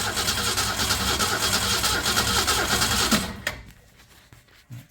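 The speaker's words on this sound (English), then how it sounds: "I'm just going to crank on it with no ignition and see what happens" An engine cranks with the ignition off, a loud rapid rhythmic churning of the starter that runs for about three seconds and then cuts off, leaving quiet clicks and faint rustle.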